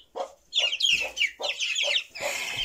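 Young chickens, hatched chicks including a pullet and cockerels, give loud close chirps and clucks in a quick series of about six bursts with short pauses between.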